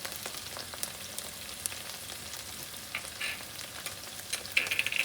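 Spices and salt sautéing in a pan before a potato stuffing mix goes in, a continuous soft sizzle with light stirring clicks and a few sharper scrapes near the end, no speech.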